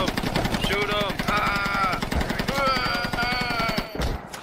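Rapid gunfire in a Baghdad backstreet combat video game, dense bursts running almost the whole clip under loud, excited talk, with a sharp cutoff near the end.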